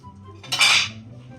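Pots and dishes clatter as someone rummages through kitchenware in a children's home game, one short close metallic rattle and clink amid quiet.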